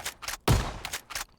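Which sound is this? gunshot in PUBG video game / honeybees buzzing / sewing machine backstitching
gunshot in PUBG video game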